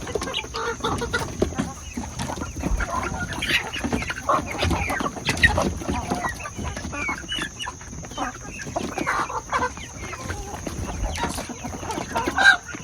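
Backyard chickens, including naked neck hens and baby chicks, cluck and chatter continuously at close range, with a busy layered flock sound and a steady high background tone throughout.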